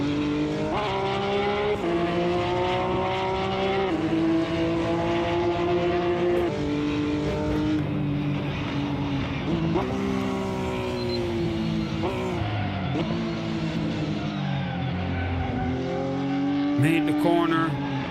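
Mercedes and Porsche race cars in the Assetto Corsa racing game, engines howling and shifting through rising and falling revs, with tyre squeal in corners, loud and continuous.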